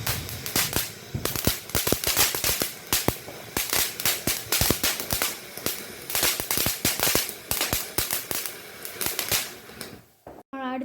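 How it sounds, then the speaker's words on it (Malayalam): A tri-colour fountain firework lit at a Vishu celebration gives off a dense, continuous burst of sharp crackling pops for about ten seconds before cutting off abruptly. "അപ്പോൾ നമ്മൾ അടുത്തതായിട്ട് കത്തിക്കാൻ പോകുന്നത് ട്രൈ കളറിൻ്റെ ആണ്, ഫൗണ്ടെയിനാണ്."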